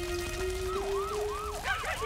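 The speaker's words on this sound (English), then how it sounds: "The sirens began to wail." Fire engine sirens wail as a storybook sound effect, several rising and falling tones overlapping over a steady high pitch, moderately loud with no talking.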